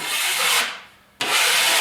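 Drywall knife blade dragged flat across joint compound over a wall patch, two long scraping passes, close and fairly loud, separated by a short pause with no talking.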